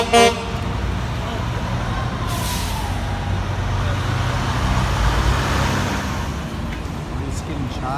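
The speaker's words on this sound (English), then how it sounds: "Honk honk." Passing motorists honk car horns beside a protest blockade of a weapons expo, one loud blast at the start and fainter toots later, over continuous roadway traffic noise and nearby talk.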